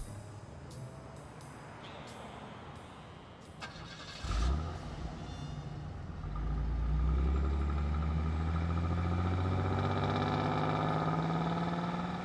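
A car in the video game Blacksad: Under the Skin starts up after a few clicks and clunks, then settles into a loud, steady, low engine idle rumble that holds for several seconds.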